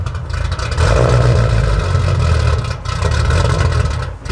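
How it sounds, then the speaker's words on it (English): A 1000hp Toyota Supra engine running and revving, a loud, steady, deep drone that swells briefly and dips near the end, close by and with no talk over it. "Brian, turn her on. Start your engines"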